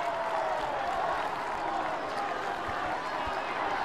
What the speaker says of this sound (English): The Auckland Grammar supporters are cheering on